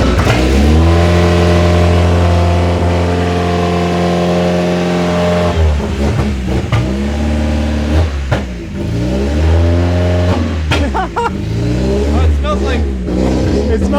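A car engine running on straight moonshine revs loudly and steadily, with the pitch rising and falling through several throttle blips. It runs lean on this alcohol fuel. Voices can be heard faintly under the engine.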